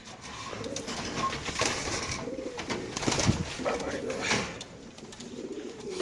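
Racer pigeons coo repeatedly at close range in a steady, murmuring chorus, with faint voices in the background.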